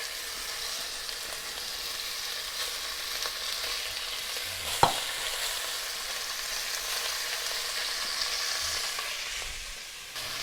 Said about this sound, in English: That sizzle's what you want.